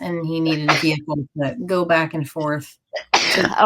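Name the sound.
sneeze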